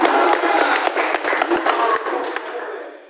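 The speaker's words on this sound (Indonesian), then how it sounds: "Sekarang tepuk tangan." An audience at a church office fundraising event breaks into loud, dense applause that gradually fades toward the end.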